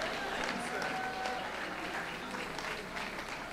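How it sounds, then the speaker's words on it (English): Applause from a nightclub audience at a live radio-style variety show fills the room as a steady, moderately distant wash of clapping with some crowd noise. "how about a big round of applause for Mr."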